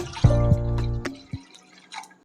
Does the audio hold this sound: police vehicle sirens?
no